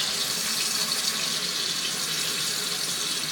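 Warm water runs from a tap in a steady, close hiss, continuous and unbroken, while it is used for cleaning acrylic.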